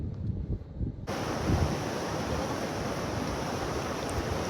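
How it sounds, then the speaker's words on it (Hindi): The Lachung River, fed by Himalayan snow in North Sikkim, rushes past in a loud, steady broadband roar that cuts in abruptly after a muffled second and stays constant, close and continuous. "बर्फ से बनी इस नदी की आवाज इतनी सुकून देने वाली थी"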